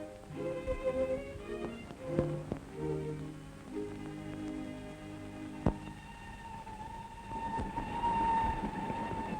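A train rumbles along a railway viaduct near city homes, with sustained grinding, rattling wheels and metallic squeals, a sharp clank midway and a rising whine at the end.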